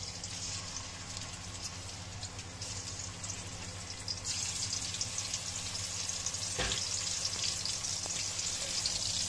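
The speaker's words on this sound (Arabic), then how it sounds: "هنحط طاسه او صينيه او اي حاجه فيها زيت، وهننزل بنص الكميه التانيه" Alexandrian-style liver fries in oil in a pan, sizzling steadily and hissing louder partway through, with a brief clatter in the middle.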